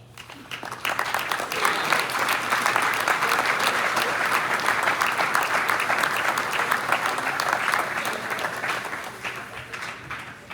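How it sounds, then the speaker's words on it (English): Sustained applause from a large crowd at a high school football awards event, steady and loud for the whole stretch, with dense overlapping claps and no pauses. "we'll give them a big round of applause"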